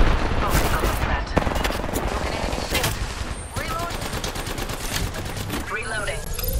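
Rapid automatic gunfire fills a hectic shooter-game firefight, with loud, close bursts of evenly spaced shots, a sustained rattling stretch in the middle, and game effects layered underneath.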